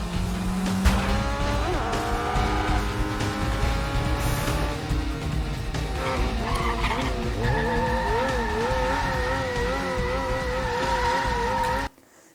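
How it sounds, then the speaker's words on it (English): A motorcycle engine revs hard during a rolling burnout while the rear tire screeches and squeals continuously, the whine rising and wavering before cutting off abruptly at the end. "Now we see the rolling burnout thing, where he's lifting his weight and putting on the front tire"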